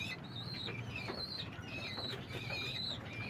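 Homing pigeons flapping their wings inside a pigeon house, a few soft bursts of fluttering close by amid faint chirps and coos, quiet and brief.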